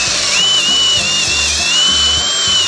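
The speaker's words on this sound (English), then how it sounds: "where'd I put that drill? Let me get that drill." A power drill whines steadily at close range, its motor pitch wavering slightly over a low, uneven rumble.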